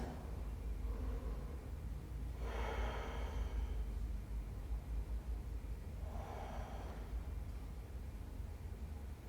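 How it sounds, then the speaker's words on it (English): Slow deep breaths in a yoga child's pose, two soft airy exhales a few seconds apart over a quiet hiss of room noise. "Take a moment in child's pose again. Take a few breaths."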